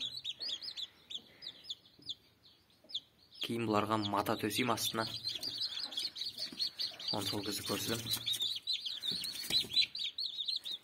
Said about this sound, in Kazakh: Енді инкубаторда қазір шығып жатыр балапандар